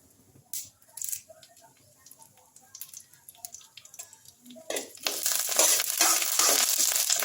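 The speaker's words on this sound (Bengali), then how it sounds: "ফোড়নটা একটু ভেজে নিচ্ছি।" Mustard seeds and curry leaves fry in hot oil as a tempering: scattered clicks and scraping come first, then a loud, dense sizzle surges in partway through and holds steady, close by.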